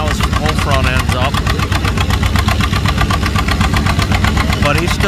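An antique tractor engine labors loudly and continuously during a tractor pull, its rough, steady mechanical roar filling the whole stretch without letup.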